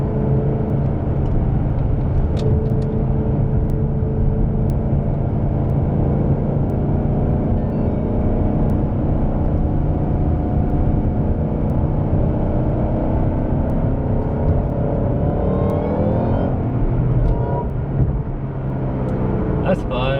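A Shelby GT500 pulls hard up a highway on-ramp, its loud engine drone rising and holding close throughout with road rumble, then easing near the end.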